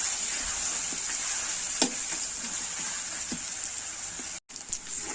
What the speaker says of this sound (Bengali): পেঁয়াজটাকে ভালো করে লাল লাল করে ভাজা ভাজা করে নেব